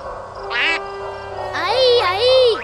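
A cartoon duck in a Spanish-language Halloween children's show gives two squeaky, nasal quacks, a short one then a longer wavering call, loud and close with no speech.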